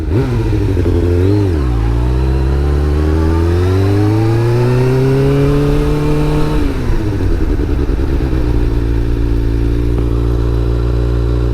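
A rebuilt, previously wrecked Suzuki GSX-R 600 on its first ride, its engine revving up and down close by before settling into a loud, steady cruising drone, with no talking.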